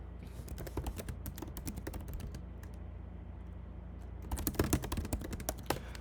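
Fast, irregular clatter of keys on a computer keyboard, close and clear, with a short pause before a busier burst of typing near the end.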